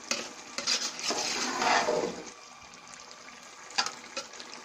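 Vegetable pulao ingredients fry in a pot with a steady crackling sizzle that swells in the middle, plus a few sharp clinks of a spoon against the pot near the end. No one speaks.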